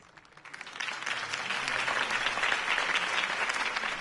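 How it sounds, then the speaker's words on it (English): A campaign rally crowd breaks into loud, sustained applause that swells quickly from a quiet start and holds as a dense wash of clapping. "If only Mr. Wayne, my campaign's largest backer, could have heard that applause"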